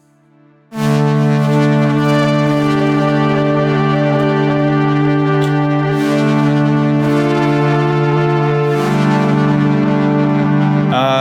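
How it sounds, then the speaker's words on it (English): A lush Digitone 2 synth pad swells in and sustains a long chord, with echoing repeats and a spacious reverb tail blurring each change. "Any pad needs delay and reverb."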